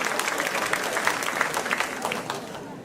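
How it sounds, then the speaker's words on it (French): An audience claps steadily during a mayor's New Year address at the town hall of Ouistreham Riva-Bella. The applause is dense, moderately loud and sustained, fading slightly at the end. "je vois que ça applaudit davantage que les impôts"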